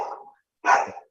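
Two sharp barks from an indoor pet dog, close and loud, separated by a brief silent gap, with no talking.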